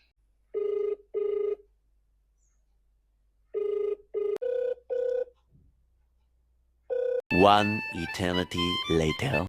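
A telephone rings in paired bursts, a quiet pause, then more rings, before a voice answers and starts talking.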